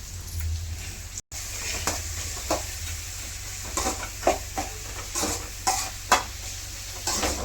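Onions frying in oil in a home kitchen pan while mushroom pepper thokku is being made, a soft continuous sizzle with intermittent stirring scrapes and clinks, fairly quiet throughout.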